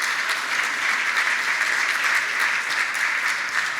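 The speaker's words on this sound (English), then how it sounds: "they deserve, I think, another round of applause for all of these events." A crowd at an awards gathering gives a steady, dense round of clapping that holds at a constant level throughout and does not swell or fade. No speech can be heard over it.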